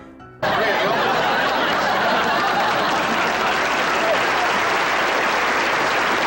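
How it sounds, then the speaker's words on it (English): A sitcom studio audience breaks into loud, sustained applause mixed with chuckles and laughter, starting abruptly and holding a dense, even roar to the end. "the audience applauded Laura for doing a handstand to get rid of her hiccups"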